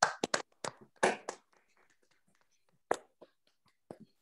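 A few scattered hand claps and taps from participants with open microphones on an online evening meeting, sparse and uneven bursts with gaps of near silence between them.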